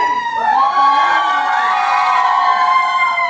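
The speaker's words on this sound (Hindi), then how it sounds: "तो जरा मुझे शाउट करिए" An audience at a Punjabi dance event shouting, whooping and cheering loudly, with high rising hoots and sustained yells filling the room.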